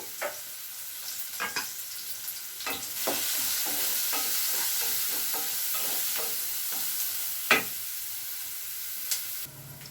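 Sliced onions and tomato pieces frying in a pan for a ridge gourd curry, with a constant close sizzle and repeated sharp scrapes and clinks of stirring, one louder knock near the end; no voices.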